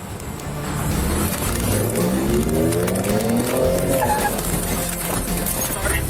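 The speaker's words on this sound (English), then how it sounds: "officers spotted a black Ford speeding on the North Freeway" A black Ford races along a freeway during a police chase, its engine roaring loud and steady throughout with a rising whine and a touch of tire squeal, no voices over it.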